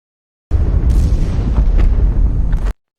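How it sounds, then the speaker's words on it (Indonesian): A loud, sustained rumbling blast outside a wartime prison camp, heavy low boom lasting about two seconds with sharper bursts crackling within it, no voices. "Mendengar ada suara ledakan luar, James yakin kalau itu pasti pasukan Amerika"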